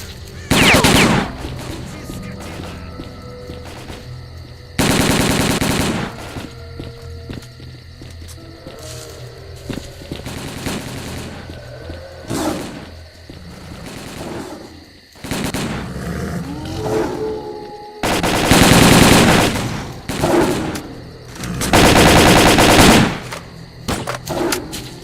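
Bursts of automatic gunfire from a firefight in the video game S.T.A.L.K.E.R.: Call of Pripyat near an evacuation point, loud rattling volleys at about 0, 5, 18 and 22 seconds, with quieter shots, impacts and distant rumble between.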